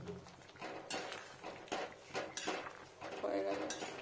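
Ground black pepper paste stirred into ridge gourd in a pan, the spoon scraping and clinking against the metal in irregular close strokes, with faint cooking sizzle underneath.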